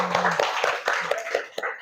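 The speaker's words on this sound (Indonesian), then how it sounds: "Beri tepuk tangan untuk kita semua" A classroom group claps together in a quick, rhythmic pattern of sharp hand claps, with voices chanting and calling over the beat.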